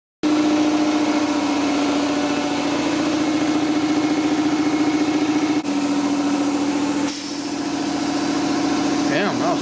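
Air compressor running steadily to inflate a car tire, a loud continuous motor drone with a strong hum, briefly dipping before continuing, close and unbroken.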